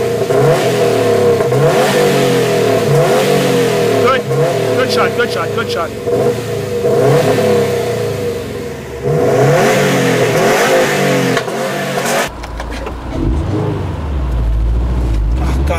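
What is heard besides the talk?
2015 Subaru WRX STI 4-cylinder engine revving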